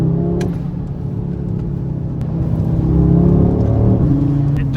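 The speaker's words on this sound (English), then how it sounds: "The car is driving like it's on tracks." An Audi RS3 in torque rear mode drives with a steady, close engine drone that swells slightly as it builds, and a few faint clicks come over the hum.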